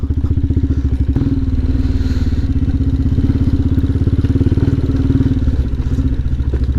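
An off-road vehicle pushed hard along a rough forest track in the Bhadra Tiger Reserve, its engine droning loud and steady with rattling clatter and thuds from the rough ground throughout.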